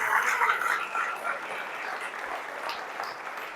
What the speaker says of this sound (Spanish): aplaudo al Señor por eso